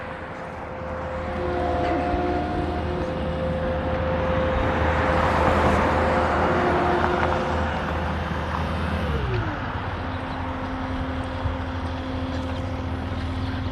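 Steady city street traffic rumbles around someone walking on a Los Angeles street near construction, with a continuous wash of passing vehicles and a low engine drone that swells mid-way, then shifts pitch as a vehicle passes.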